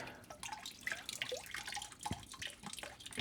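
Water drips from a plant hydroponic setup during a nutrient change, with scattered small drops and splashes falling irregularly at close range and no talking.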